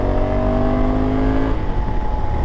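A Honda Africa Twin 1100 motorcycle pulls hard at highway speed after a downshift, its engine droning loud and close with a steady rising tone. The pitch drops abruptly partway through as the rider shifts gear.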